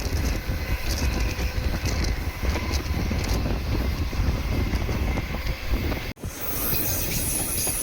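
Guruvayur Express (16127, Chennai Egmore to Guruvayur) rushes past with a loud, close roar, rattling wagons and squealing wheels plus wind buffeting, cut off abruptly near the end and followed by a quieter hiss.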